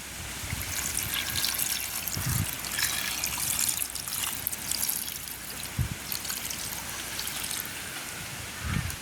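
Coconut milk is poured into a freshwater fish curry on a village cooking fire, giving a steady liquid trickle and splash with a few soft knocks, close and alone without talk.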